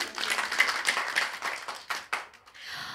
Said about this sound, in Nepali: एक जोरदार तालीले उहाँहरूलाई सम्मान गरौँ